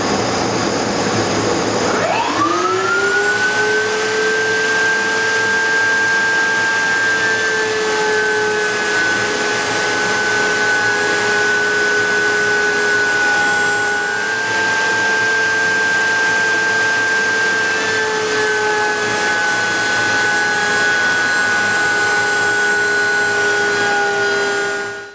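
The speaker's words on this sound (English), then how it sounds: "So we'll take it over to the miter saw and cut it." Power tool spinning up in a woodworking shop while shelf wood for a bathroom mirror is cut and profiled on a router table: a loud whine rises sharply, then holds as a steady, sustained high-pitched drone for over twenty seconds.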